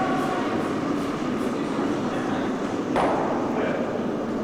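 A curling stone thunders along the ice at a bonspiel, a loud rumbling glide ending in a sharp crack as it strikes and knocks away another stone, with arena ambience underneath.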